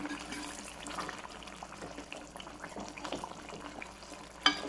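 Tomato paste cooks in oil in a pan for a Tamil rice mix, a low, continuous bubbling sizzle with occasional stirring scrapes and one sharp clink near the end.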